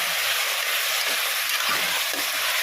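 Tomato masala for prawn biryani sautéing in a pan, a steady loud sizzle with soft scraping stir sounds running throughout.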